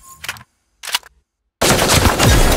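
Gunfire in the video game Super Mecha Champions during a squads match: two short sharp shot bursts, then a loud, continuous rapid machine-gun volley close up that runs to the end.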